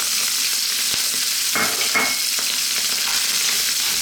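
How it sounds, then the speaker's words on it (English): Sliced onions with garlic and ginger stir-fry in a wok over high heat for beef and onions: a loud, continuous sizzle up close, broken by a few scraping tosses. "Let's get these onions cooked along with that lovely garlic and ginger."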